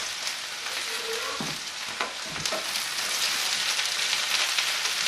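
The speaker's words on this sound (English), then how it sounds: "Now add them to the very hot oil. Saute up just a little bit." Chopped mushrooms and onions hit very hot oil in a fry pan, a loud, close, continuous sizzle like heavy rain, with a few knocks of the pan early on and the hiss building steadily.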